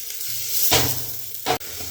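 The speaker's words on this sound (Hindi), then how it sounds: "चलो छोंक लगा देता हूँ इसमें।" Spices for a chhonk tempering hit hot oil while a vegetable dish is cooked at home, with two loud, close bursts of sizzling over a steady background crackle.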